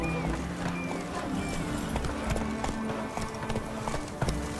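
Roach, a horse in The Witcher 3, gallops with steady clip-clop hoofbeats, close and fairly loud under a busy game soundscape with faint background noise.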